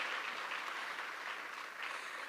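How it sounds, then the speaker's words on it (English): Audience applause at an agro-incentive grant distribution ceremony, a steady dense wash of clapping held at an even level throughout, with no voices over it. "Let's give them another round of applause."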